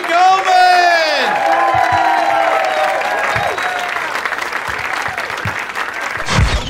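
A comedy club audience gives comedian Gary Gulman loud, sustained applause mixed with cheering and whoops, with a voice calling out over the clapping.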